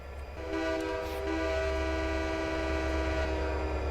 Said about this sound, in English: we'll watch the train go past